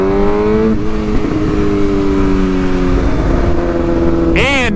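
A Suzuki GSX-R 600 sport bike engine pulls through the gears while riding, a loud steady whine rising in pitch, dropping at a shift, then climbing again before a sharp rev at the end.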